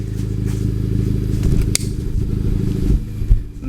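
Honda Civic Type R fitted with an AWE exhaust, a steady deep engine rumble with pulsing low exhaust note and a few sharper revving swells, loud and close throughout.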